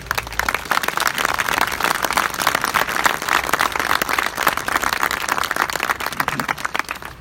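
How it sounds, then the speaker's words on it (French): Loud, crackling applause from a crowd at a rally against antisemitism and racism in Marseille, with sharp, dense claps that stay strong throughout and no talk over them. "je voudrais qu'on l'applaudisse"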